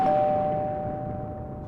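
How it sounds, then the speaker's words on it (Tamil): A single electronic doorbell chime rings out and slowly fades, a steady tone sustained for under two seconds with nothing else around it. "அதோ காலிங் பெல் அடிக்கிறாங்க."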